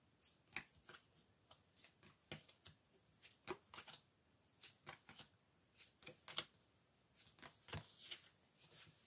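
Tarot cards are shuffled close up in a long run of soft, papery riffles and taps, coming in irregular bursts and fairly quiet, with no talking.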